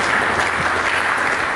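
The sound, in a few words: congregation applause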